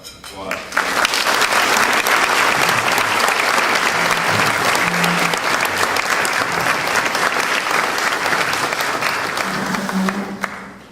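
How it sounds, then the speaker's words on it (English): A crowd applauds continuously, a dense sustained patter of clapping that fades out at the end. "let's give them a round of applause"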